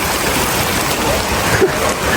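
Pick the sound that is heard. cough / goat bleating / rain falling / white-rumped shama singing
rain falling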